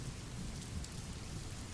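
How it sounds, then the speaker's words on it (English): Soft, steady rain falls outside in a continuous, even wash of patter, close and unbroken, with no voices. "the music blending with the sound of the rain"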